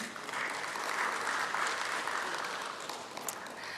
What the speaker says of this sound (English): Ladies and gentlemen, please give our dignitaries a big round of applause and a warm welcome.